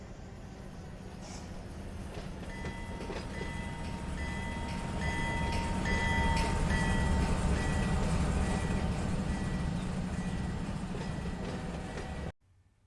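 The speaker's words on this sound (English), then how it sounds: "the train should start moving" A freight train led by diesel locomotives in the Run8 Train Simulator game creeps slowly through a rail yard, a steady low engine rumble with faint wheel squeals and metallic clanks that swell midway, then cut off abruptly.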